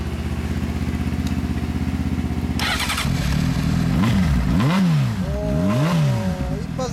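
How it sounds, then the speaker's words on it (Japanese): A 2003 Honda 600 motorcycle is cranked over with a rapid starter chatter, fires up, then settles into idle before being blipped in two or three sharp rising-and-falling revs, close and loud. "ごめん、エンジン音聞かせてもらえるかな。"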